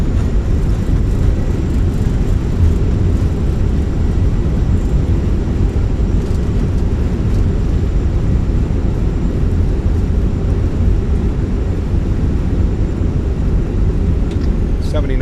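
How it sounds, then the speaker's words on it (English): Fenix A319 airliner in a flight simulator game during landing rollout with thrust reversers deployed, a dense, loud, steady low-frequency engine roar lasting throughout with no breaks. "reversers are out, decelerating."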